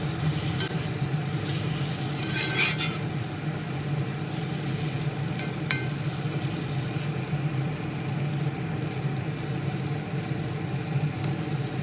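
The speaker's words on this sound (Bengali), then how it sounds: "মশলার সঙ্গে আলু নেড়ে চেড়ে মিনিটখানেক সময় ধরে কষিয়ে নিচ্ছি" Potatoes stirred and fried with spices in a pan, a steady close sizzle throughout, with a few brief scraping stirs.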